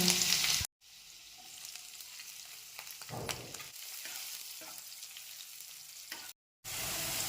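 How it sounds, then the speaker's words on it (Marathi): Garlic cloves and chopped green chillies fry in hot oil, a close, busy sizzle and crackle with stirring scrapes, opening and closing with louder bursts separated by short gaps. "लसूण आणि मिरची तेलामध्ये छान परतलेली आहे"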